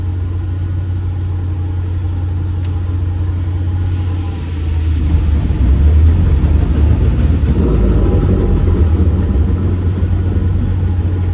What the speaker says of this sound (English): We did get this engine running.